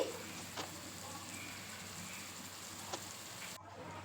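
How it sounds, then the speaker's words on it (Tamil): Onions and tomatoes sauté in a pan for a carp fish curry, giving a soft, steady sizzle that stays low throughout, with a couple of faint utensil taps. "வெங்காய தக்காளி நல்லா வதங்கிருச்சு"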